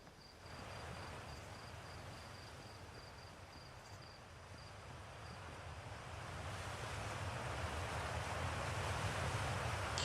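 A waterfall near a cave in the video game Outer Wilds, heard as a quiet, steady rushing wash that builds gradually, with a faint high chirping tone pulsing briefly early on and no voices.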